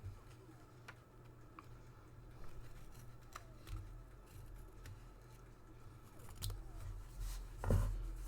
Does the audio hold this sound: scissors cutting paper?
yes